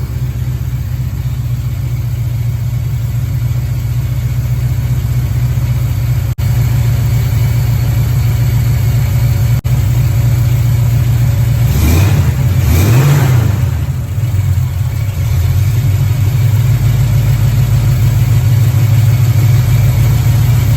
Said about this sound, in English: I think maybe my idle's too low. It keeps surging.